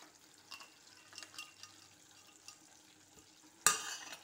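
A spoon stirring semiya kesari with fried cashews and raisins in a pan makes faint, intermittent scraping strokes, ending in one sharper, louder clatter near the end.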